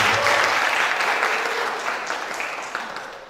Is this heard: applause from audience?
yes